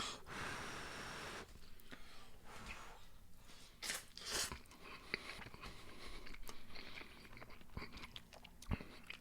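Close, quiet chewing and biting of microwaved Rao's frozen spaghetti, soft mouth sounds and breaths coming in irregular bursts with no talking.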